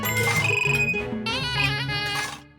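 A telephone rings loudly in a home with a continuous melodic ringtone that lasts about two and a half seconds before fading out.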